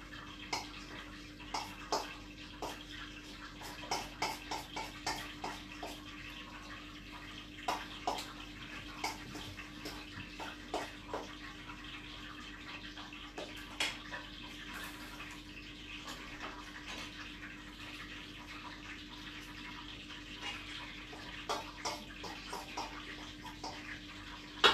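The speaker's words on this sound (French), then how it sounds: "on filtre un petit peu pour enlever un petit peu d'eau" Water from grated potatoes during cooking, a faint steady watery trickle and splashing with scattered soft drips and taps, low and continuous with no talk.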